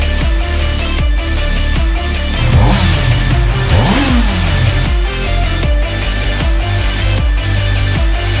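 A Honda CB650R motorcycle with E-Clutch runs loud and close. Its engine revs rise and fall in rhythmic surges, with sweeping pitch changes during gear shifts midway, and no voices over it.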